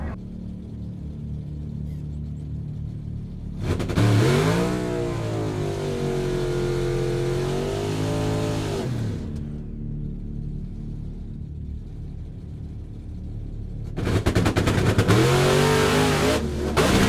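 A drag race car on the track roars loudly in two bursts of hard acceleration, rising through gears before fading, with a quieter engine rumble between the runs.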